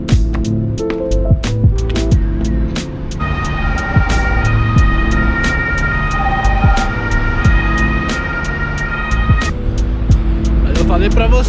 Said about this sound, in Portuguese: aparece uma ambulância do nada